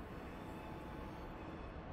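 A small BR 294 diesel shunting locomotive hauling a freight train rolls past in Train Simulator 2022, heard as a steady, broad rumble of rail noise that stays constant and fairly close.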